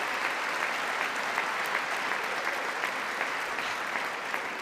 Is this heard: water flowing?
no